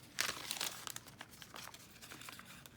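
Paper journal page being cut, with soft crinkling and rustling of paper, a quick close burst of crisp snipping followed by quieter scattered crackles, faint and near.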